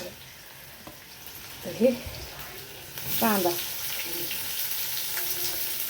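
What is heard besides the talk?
green chillies frying in a pan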